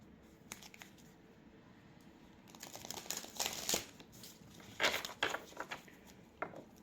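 A deck of oracle cards is shuffled close by, faint papery riffles and soft flicking bursts scattered through a quiet room.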